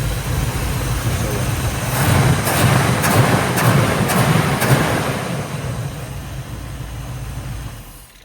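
An engine cranks and then runs after a carburetor rebuild, its low steady rumble rising and settling over several seconds with a few sharper bursts, loud and close, without speech.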